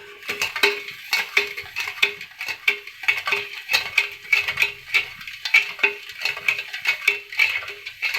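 A spoon clinks and scrapes in a rhythm against a pan of sugar, water and citric acid syrup being stirred until it boils for pineapple sharbat. The strokes are steady, close and fairly loud, with no talking.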